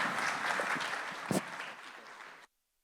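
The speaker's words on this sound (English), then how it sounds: "Can we have a huge round of applause for all the panelists?" Audience applause for panelists at a manufacturing summit, a dense steady wash of clapping from a crowd that holds for a couple of seconds, then cuts off abruptly into silence.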